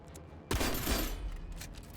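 Weapon fire in the video game Aether & Iron: a sudden loud burst of gunfire after a quiet half second, then a sustained rattling, crackling volley that fades slowly.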